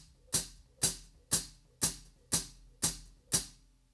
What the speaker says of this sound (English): So normally, when I'm performing hi-hat foot strokes,